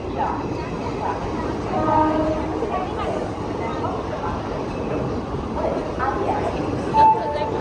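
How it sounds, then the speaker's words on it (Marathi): A train rumbles steadily nearby with a couple of short horn blasts, while people talk over the noise. "आता चित्राची ट्रेन"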